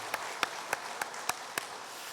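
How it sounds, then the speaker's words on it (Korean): Scattered, sparse hand claps from a church congregation during a Sunday service, welcoming new members; a handful of distinct claps spaced evenly, fairly faint, with no talk over them. "박수로 환영하도록 하겠습니다"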